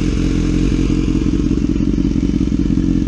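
A motorcycle engine idles steadily right after its 25,000-mile service, close and loud for the whole stretch, with a low, even throb and a faint mechanical clatter.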